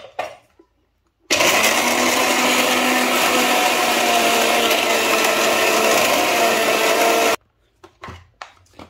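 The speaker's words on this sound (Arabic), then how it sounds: "وهاد اللوز ها نتوما كتشوفوا كيفاش غادي نطحنو حتى غيرجع هكا معلوق" An electric blender grinds almonds into a paste for Fassi sellou: a loud, harsh whir kicks in abruptly, runs steadily for about six seconds, then cuts off, with quiet handling noises before and after.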